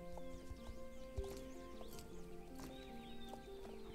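Horses in the online riding game Star Stable Online: a steady clip-clop of hooves with whinnies and neighs, set against sustained game music tones.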